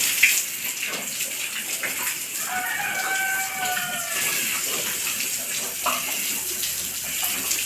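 Water splashed over pigs in their pen on a hot day to cool them, running and spattering steadily throughout, with a rooster crowing nearby and a faint voice in the background.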